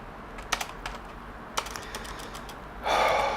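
Someone types on a computer keyboard, irregular clicky keystrokes up close over a quiet background, ending in a rushing breathy burst.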